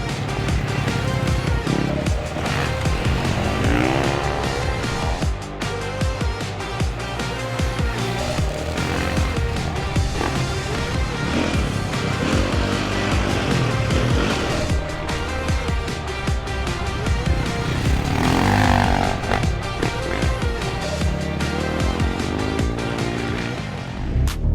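A Ducati Desmo450 MX motocross motorcycle roars through an off-road ride, its engine loud and unbroken, revving and surging for the whole stretch.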